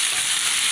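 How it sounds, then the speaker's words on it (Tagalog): Onion and garlic frying together in a pan, a brief, dense, steady sizzle heard up close with no voices. "Ilunod ang sibuyas kasabay ng bawang at harke-harke,"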